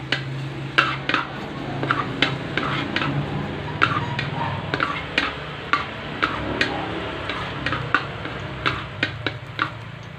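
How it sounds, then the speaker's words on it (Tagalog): Garlic sautés in a little oil in a wok for a Filipino misua and patola dish: a steady soft hiss runs throughout, punctuated by a dozen or so sharp clicks and taps of a utensil against the pan. "bigyan natin kawali, tapos lagyan natin ng konting mantika. Ayan. Tapos unahin natin yung"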